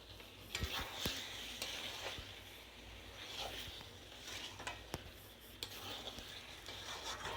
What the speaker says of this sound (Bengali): এবার আমি মাংসটা কষাবো।